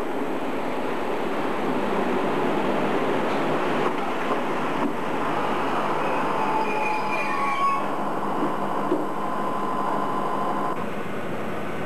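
A diesel train runs along the Raurimu Spiral track in New Zealand, a steady close rumble with metallic wheel squeal and rail noise throughout, no voices.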